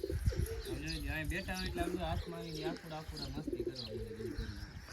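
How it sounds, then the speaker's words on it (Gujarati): Pigeons coo in soft, rolling calls nearby while a person talks over them, the cooing repeating steadily beneath the voice. "જો કબૂતર ઉડાડવા જાય"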